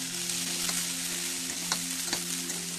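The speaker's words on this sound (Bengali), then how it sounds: "কোকোনাটটা হালকা ভাজা হচ্ছে" Grated coconut and frozen peas fry in a pan with a steady, close, crackling sizzle and a few brief stirring scrapes, over a low constant hum.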